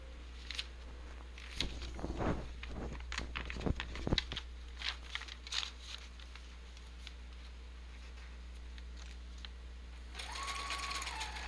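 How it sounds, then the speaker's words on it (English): A sewing machine sews through paper for a junk journal, giving soft, uneven punching and rustling bursts early on, a quieter stretch, then a brief higher mechanical whir at the end. "So I'm just going to sew down through these in a messy kind of way."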